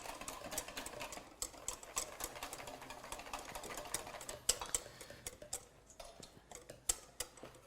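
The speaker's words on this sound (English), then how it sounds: "Once again, whisk" A whisk beats chocolate buttermilk pie batter against the side of the bowl to work in the flour, giving a rapid run of light ticking clicks that stays close and steady, with no voices.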